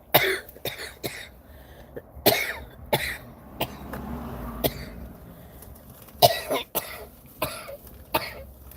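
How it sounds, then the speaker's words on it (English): Repeated coughing fits, a series of sharp, close coughs and throat clearing spaced irregularly, with no talking. "Starting to cough."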